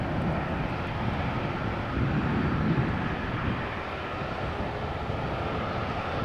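A Norwegian airliner departs Amsterdam Schiphol bound for Copenhagen, its engines a broad, rumbling roar that holds steady throughout, with some wind buffeting.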